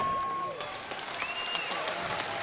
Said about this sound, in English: Nice round of applause from this huge crowd here at South Point as Kozhin.